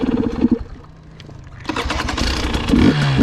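A 2021 KTM 300 XCW TPI two-stroke dirt bike engine running on a cold winter sand ride, a low uneven idle that swells into louder, rougher revving partway through, heard close with no talk.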